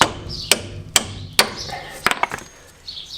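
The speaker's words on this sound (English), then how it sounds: "I'm going to get the hammer now and give it a smack again." Hammer blows strike a Peugeot suspension bush, three sharp metallic smacks spaced about half a second apart followed by a quick flurry of lighter taps, loud and close in a quiet workshop.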